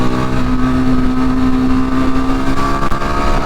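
A Yezdi Scrambler motorcycle engine revs loudly and close up, giving a steady, throaty roar with a sustained tone and slight rise and fall in pitch.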